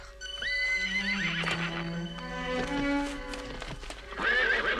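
A horse whinnies loudly, a long wavering neigh followed by a second rising call near the end, with some hoof clatter and dramatic music around it.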